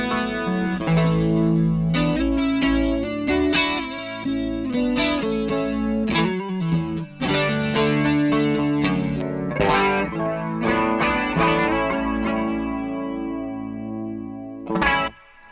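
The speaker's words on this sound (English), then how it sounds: "still kind of got its heart in chorus, but that's a little flanger sound." Electric guitar through a Walrus Audio Julia chorus pedal with lag time and depth raised toward a flanger-like sweep, sustained chords and melodic lines ringing with a swirling modulated shimmer, loud and close with no talking.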